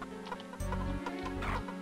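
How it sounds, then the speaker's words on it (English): Game-style chicken clucks in the deathmatch arena of the video game Heretic: Shadow of the Serpent Riders, a few short bursts over a steady looping background tone with a low rhythmic hum. "it takes a long time for the chickens to kill each other."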